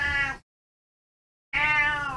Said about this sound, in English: You can hear that I have a cat,